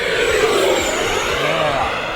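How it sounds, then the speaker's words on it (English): An E-flite F-18 Blue Angels 80mm electric ducted-fan RC jet makes a fast flyby, a loud sustained whooshing roar with a sweeping pitch as it passes close, with no talking. "Would you believe this is an electric plane flying on a battery? It sounds like a jet."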